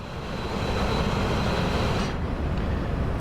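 A DB BR 642 diesel railcar on the Maintalbahn in Train Sim World coasts downhill at speed with power eased back, giving a loud, continuous rumble of wheels and running gear that carries on without talk.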